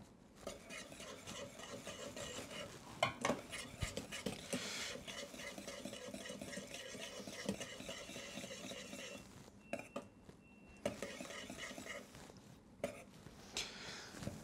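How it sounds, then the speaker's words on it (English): A whisk scrapes and stirs steadily through thick béchamel sauce with melting cheese in a metal pot, close and continuous with soft rhythmic rasping and occasional clinks against the pan. "continue to whisk just until the cheese is melted"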